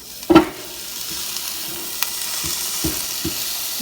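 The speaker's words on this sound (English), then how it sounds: "Listen to that sizzle." A frozen ribeye steak sizzles steadily on a Ninja Foodi Grill, a constant crackling hiss, after an initial thump and clatter of tongs, with a few light taps.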